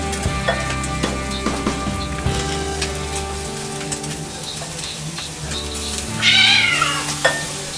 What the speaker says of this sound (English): Cats are killing each other.